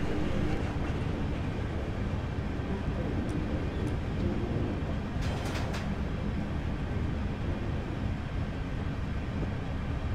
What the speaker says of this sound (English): I am now braking gently as we're approaching the train just ahead.